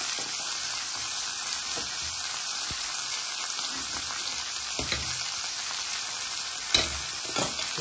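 Normandy sauce is stirred in a pan with chicken supreme and tagliatelle, giving a steady close sizzle throughout with faint scraping and bubbling.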